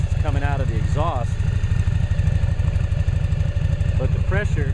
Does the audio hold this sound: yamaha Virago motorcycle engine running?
yes